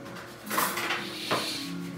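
Kitchen dishes and cutlery clatter as a spoon is picked out from among them: two sharp metallic clinks with scraping and rattling between, close and fairly loud, with no talking.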